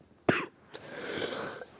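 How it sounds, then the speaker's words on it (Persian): A person who is ill gives one sharp, close cough, followed by a faint short sound and a low room hum. "یکم سرفه میکنم"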